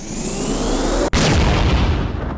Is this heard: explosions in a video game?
yes